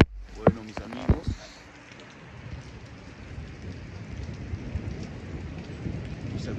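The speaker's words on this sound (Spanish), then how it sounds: "estos rayos, tormenta invernal en Los Ángeles" A winter thunderstorm over the San Fernando Valley in Los Angeles opens with sharp nearby thunder cracks, then settles into steady heavy rain drumming on surfaces with a low rumble underneath.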